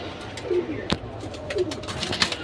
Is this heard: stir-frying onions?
no